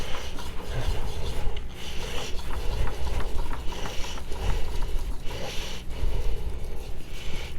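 A knife is worked back and forth across a Suehiro 8000 grit whetstone carrying a dark slurry, giving a continuous close scraping with soft rhythmic rubbing strokes throughout, and no talking.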